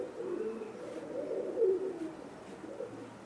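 Imported Teddy pigeons coo in a loft, a low, soft, rolling murmur that rises and falls steadily and stays faint and close with no voices over it.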